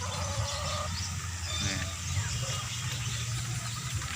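White chickens on a small backyard poultry farm give soft, scattered clucks amid a steady hum of outdoor background noise, faint and intermittent rather than loud or close.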